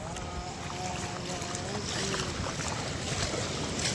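Continuous roaring rush of floodwater pouring under a bridge, a broad steady wash heard from nearby with wind buffeting the microphone and a faint voice briefly in the background.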